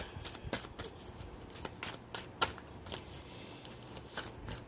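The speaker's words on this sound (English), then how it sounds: "I'm going to get one card for you, the Sacred Destiny cards" Sacred Destiny tarot cards being shuffled by hand, a run of quick soft riffling bursts in an irregular rhythm, close and fairly quiet, with no talking.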